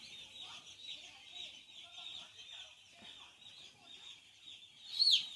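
Many day-old poultry chicks in a farm brooding shed, around five thousand birds kept in ring enclosures, give a steady chorus of high peeping and cheeping throughout, with a brief louder burst near the end.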